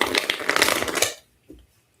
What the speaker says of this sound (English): I'm gonna shuffle a little bit more because the same cards keep coming out